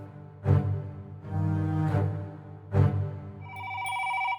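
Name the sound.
telephone ringing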